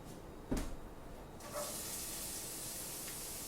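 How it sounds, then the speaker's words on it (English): A clatter, then a steady hiss begins and continues as whole onions hit a hot pan and sizzle, fairly quiet and close. "And the sizzle. We got the sizzle."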